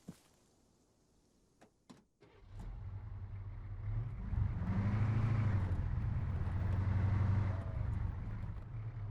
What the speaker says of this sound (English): Oh, maybe I should park the car here.